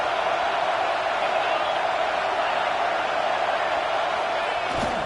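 Football stadium crowd at a Nebraska versus Texas game roaring loudly and steadily on second and goal, a dense continuous wall of noise throughout.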